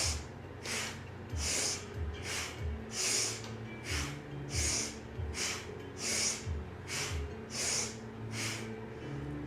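Rhythmic nasal breathing during kundalini spinal twists, each sharp inhale and exhale repeating about a dozen times at a steady pace, close and clear with no talking.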